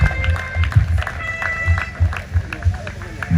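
Church congregation applauding to praise the Lord at an evangelist's exhortation, rhythmic clapping in repeated bursts with voices mixed in.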